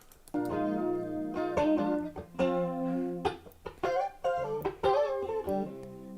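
A guitar played through a Boss CE1 chorus pedal, sustained chords and notes shimmering with a warbling chorus effect, clear and alone in a series of phrases.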